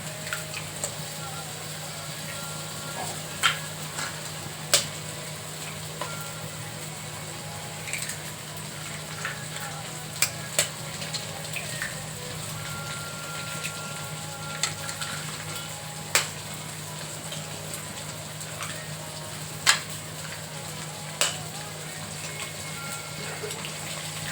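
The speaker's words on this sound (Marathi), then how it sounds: "तर आता मी त्याच्यामध्ये अंडी फोडून टाकते." Broken eggs cook in a pan with roasted onion, turmeric and chili spice for egg bhurji. A steady sizzle and hiss runs throughout, broken by occasional sharp scrapes and taps of stirring.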